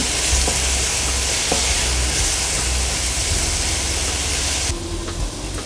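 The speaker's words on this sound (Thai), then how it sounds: "เราจะใส่ลงไปนิดนึงก่อนนะ แล้วก็ผัดให้มันทั่วๆกัน" Food and sauce are stir-fried in a pan, a loud continuous sizzle with occasional scrapes and clinks of the utensil, the hiss cutting off sharply before the end.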